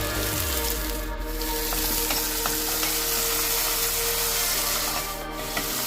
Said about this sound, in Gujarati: હવે આપણે ઝીણા કાપેલા બટાકા નાખી દઈશું.